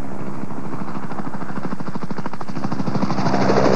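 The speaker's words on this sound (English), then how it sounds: "and attack helicopters." A military attack helicopter flies with a loud, even rotor thump that pulses rapidly and steadily, growing slightly stronger toward the end with no voices over it.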